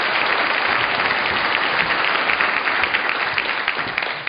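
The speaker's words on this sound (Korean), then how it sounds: "박수로 한번 청해 보도록 하겠습니다" Dense audience applause at a televised Seosan city special, a continuous wash of many hands clapping at steady volume, fading slightly at the close.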